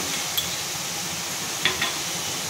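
Soya nuggets and bottle gourd curry in a pan, a steady hiss of frying with a few faint clinks and scrapes as it is stirred, no talking.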